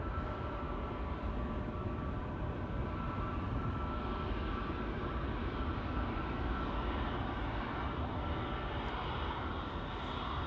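An airliner departing Amsterdam Schiphol airport, its engines a steady, broad jet roar held at constant loudness throughout, heard from a distance with no voices.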